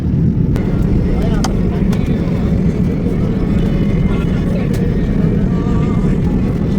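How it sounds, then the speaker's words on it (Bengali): Cabin of an airliner taking off from Dammam at night on a Saudi Arabia to Bangladesh flight: a constant, loud, low engine roar fills the whole stretch, with faint voices and small clicks above it. "এই যে দেখুন বিমান উড়া শুরু করেছে"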